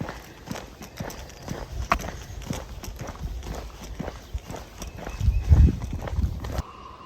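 A donkey walks along a rural road, its hooves clip-clopping in a steady irregular rhythm, near and moderately loud against outdoor background noise.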